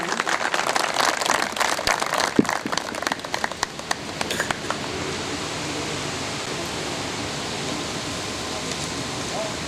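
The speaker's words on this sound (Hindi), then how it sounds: "भरपूर तालियां होनी चाहिए।" An audience at a workshop inauguration ceremony in Sukkur applauds as the chief guest is welcomed to the stage: dense, loud clapping for about four seconds, then fading into a steady hiss of room noise.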